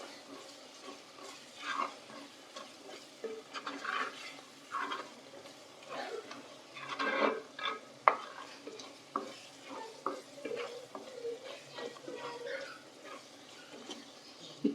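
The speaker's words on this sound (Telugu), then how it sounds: "కారం కూడా కొంచెం పచ్చివాసన పోయేంత వరకు బాగా ఫ్రై చేయండి" Chili powder frying for a tamarind fish curry gives a soft sizzle under repeated scraping stirs of a spoon in the pan, with irregular clinks and taps throughout and no talking.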